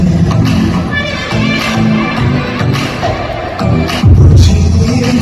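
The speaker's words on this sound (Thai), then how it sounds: "ขอเสียงปรบมือให้กับทั้งสี่หนุ่มอีกครั้งหนึ่งนะคะ" Crowd at the Beneunder Thailand grand opening event applauding four young men, a loud, dense din of clapping mixed with cheers, shouts and a few thumps, swelling near the end.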